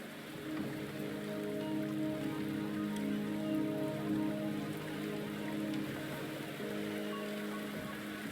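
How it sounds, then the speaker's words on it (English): Steady rain pours down in the Wuthering Waves video game, a soft continuous patter of drops on surfaces with a gentle even hiss and no voices. "The rain is subsiding, and the sky will soon clear."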